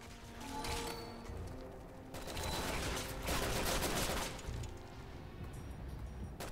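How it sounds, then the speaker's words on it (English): Sniper rifle fire in Resident Evil 6 comes as loud, dense bursts of shots and sharp cracks over a gritty background, swelling and easing in waves throughout. "Such a terrible shot with this gun. The sniper is one shot kill"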